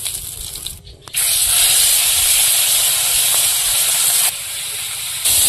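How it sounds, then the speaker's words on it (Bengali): Fish fry in oil in a wok over a clay stove, giving a loud, steady hiss that dips briefly near the start, then runs on evenly and eases slightly in volume toward the end. "বাকি মাছগুলো ভেজে নেব।"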